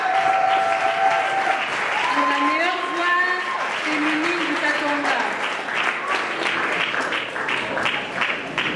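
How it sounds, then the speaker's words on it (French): Applause from an audience at a gospel music awards event, steady clapping mixed with crowd noise and a voice singing or calling over it throughout, moderately loud and continuous. "Applaudis très très fort pour la sœur Angela."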